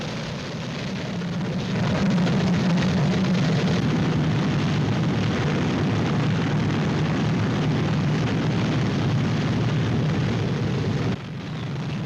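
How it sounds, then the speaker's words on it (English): WWII B-29 bombers taxiing on Tinian before takeoff, heard as a loud, continuous roar of piston engines that swells after a couple of seconds and holds steady, with a brief dip near the end. "B-29s taxi and prepare for takeoff from their hard stands on Tinian"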